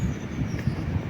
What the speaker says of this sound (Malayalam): അതാ വീണ്ടും അടുത്തൊരു ഗുഡ്സ്.